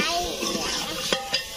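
Potatoes and mutton fry in a pan with a steady, close sizzle and bubbling hiss, broken by two sharp stirring clinks near the end.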